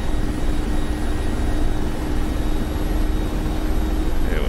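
A helicopter in DCS World makes a rolling takeoff, its engine and rotor producing a loud, continuous, steady drone with a faint high whine running through it. No other sounds break the noise.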